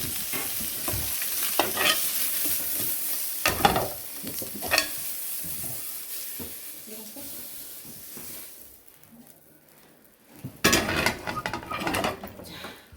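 Ingredients for Joseon-style Korean japchae are stir-fried in a pan, sizzling steadily with clattering stir strokes. The sound eases into a quieter stretch, then bursts into loud, busy frying and stirring near the end.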